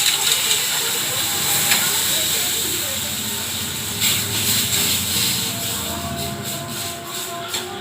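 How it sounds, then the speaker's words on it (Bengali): Milk and ghee poured into hot fried semolina set off a strong, steady sizzling hiss that fills the pan, loud and close, holding throughout with slight swells. "ঘি দিয়ে এবার দুধ দিয়ে দিচ্ছি।"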